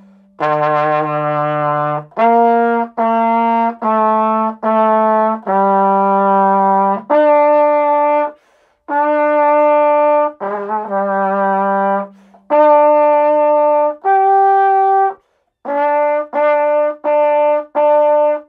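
A French horn plays a simple beginner song from book 1, line 120, with clear sustained notes that step and leap between low and middle pitches in a steady rhythm, heard alone.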